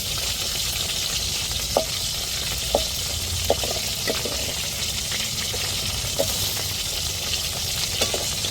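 Prawn 65 frying in masala gives a steady close sizzle, with occasional light clicks of a stirring spoon against the pan and no voices.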